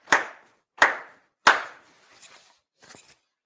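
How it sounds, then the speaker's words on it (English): Ritual hand claps at the Tenchi Kane no Kami Grand Ceremony, a Shinto rite: three sharp, crisp claps evenly spaced in a quiet hall, followed by two softer, scattered claps from others. "4 sincere claps along with the head officiant"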